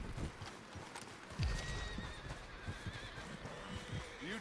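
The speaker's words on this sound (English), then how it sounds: "Where's my horse?" A horse in the video game Red Dead Redemption 2 gives a loud whinny over a steady clip-clop of hooves, with faint outdoor ambience behind.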